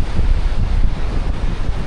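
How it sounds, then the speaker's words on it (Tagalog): Strong wind buffets the microphone on a swaying bridge crowded with tourists, a loud, continuous low roar with no pauses. "medyo maalog yung tulay kasi sobrang lakas ng hangin"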